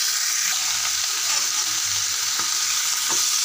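Cooked drumstick leaves are stirred in a hot pan, giving a dense, even sizzle of frying with soft scraping motions mixed in, close and continuous, with no talk.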